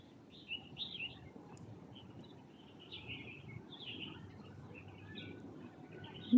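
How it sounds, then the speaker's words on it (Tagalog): Small birds chirping and calling in a pine forest, faint scattered tweets over quiet background hiss, with a brief louder bump at the very end. "Iyan yung mga ibon na parang doon taga sa amin."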